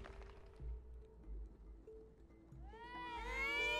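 A cat in the video game It Takes Two meows near the end, a rising, wavering call that follows quieter game sounds and low rumble.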